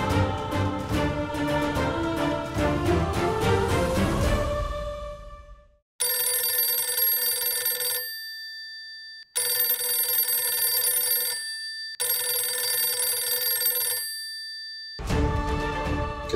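An indoor telephone bell rings in several bright, repeated bursts of about two seconds each, separated by short silences, with no talking over it.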